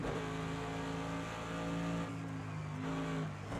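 A Mercedes AMG GT3 racing at Bathurst in Project Cars 2 roars through the gears, engine pitch climbing and dropping with a brief lift between shifts, steady and fairly loud.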